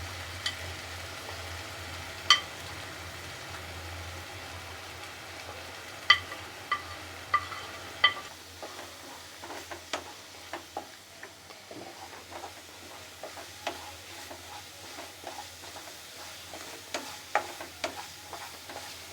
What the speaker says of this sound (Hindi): इसे हमें अच्छी तरह से भून लेना है। तब तक भूनना है जब तक कि ये ऑयल साइड में न छोड़ने लगे।